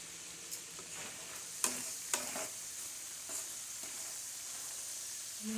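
Onions frying low in a hamburger-grease pan are raked and stirred with a utensil: a steady soft sizzle runs throughout, broken by a few sharp scrapes and clicks against the pan, close and alone with no talking.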